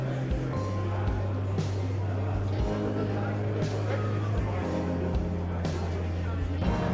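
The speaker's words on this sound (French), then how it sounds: "on est du coup au bord de la piste et il y a les voitures qui passent" Classic cars race past on a circuit track at a vintage motoring event, their engines surging in several loud, rising and fading passes while someone talks over the steady roar.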